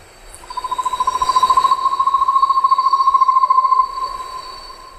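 A recorded buff-fronted owl (caburé-acanelado) gives its call, a loud, close, steady trill of rapid whistled pulses on one pitch lasting about three and a half seconds before it stops abruptly.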